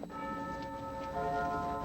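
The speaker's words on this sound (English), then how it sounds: "That bell is 100 years old." A hundred-year-old bell rings with a sustained, steady metallic tone that swells slightly louder partway through, clear and fairly close with no talking over it.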